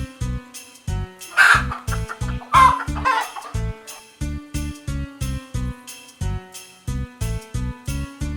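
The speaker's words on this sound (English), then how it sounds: "Chickens." Chickens cluck steadily and close by in quick rhythmic bursts, with a couple of louder, higher squawks mixed in.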